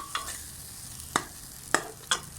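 Egg mince being stir-fried in oil in a pan: a constant sizzle punctuated by several sharp scraping clicks of a spatula stirring, spaced unevenly, with no talking.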